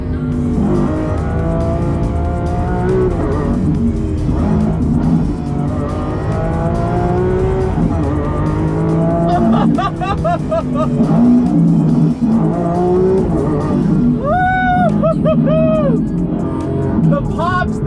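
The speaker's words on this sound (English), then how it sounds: "Just listen to this V12." Lamborghini Aventador SVJ V12 roaring loudly and close, climbing through repeated high-pitched revs and gear changes with sharp rising whines toward the end.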